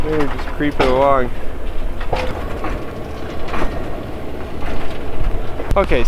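A train rumbling and clattering past on the tracks near a snowy backyard, steady and fairly loud throughout, with voices talking over it.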